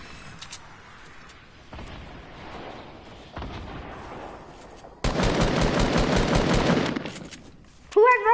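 Fortnite gunfire builds from scattered distant shots to a loud sustained burst of rapid fire, with a few closer pops at the end and a player talking in places.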